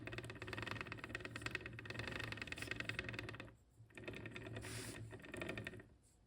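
Open differential spider gears from a 1997 Toyota RAV4 rear axle rattling and clicking in a quick continuous stream as they are turned by hand, close and fairly faint, with a brief pause partway through.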